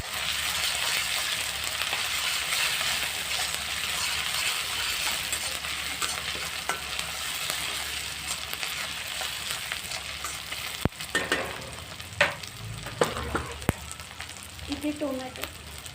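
Onion sizzling steadily in hot oil in a pan with a ground ginger, garlic, cumin and coriander-stem paste, a continuous close frying hiss with a few stirring clinks near the end, for a mixed bhaji.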